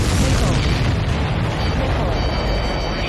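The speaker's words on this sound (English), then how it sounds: "Did you see that explosion?" A missile explosion in the jet combat game Ace Combat 7 rumbles loud and continuous, a dense roaring boom that holds steady without a sharp attack.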